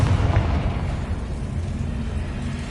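Confringo fire spell explosion in the video game Hogwarts Legacy: a loud, dense rumbling blast that stays heavy and sustained throughout, with no voices.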